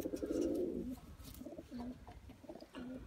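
A Kasuri pigeon coos nearby, one long rolling coo followed by several shorter soft coos with brief pauses between them.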